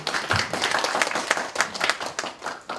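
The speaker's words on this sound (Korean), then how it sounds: "박수 부탁드리겠습니다" Audience applause after a lecture on leadership through life's stages, a steady patter of many hands clapping at moderate distance, sustained for a few seconds without speech.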